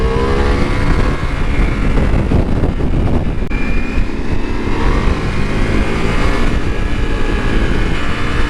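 Ducati Multistrada V4 motorcycle ridden on the road, with a loud, continuous engine drone mixed with heavy wind roar throughout and a slight shift in pitch partway through.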